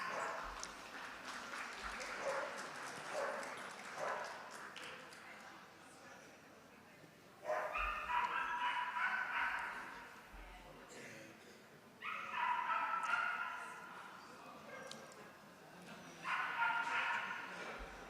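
Dogs at an indoor dog show judging the utility and pastoral groups give occasional yips and barks against a busy hall murmur, with bursts of applause rising and fading throughout.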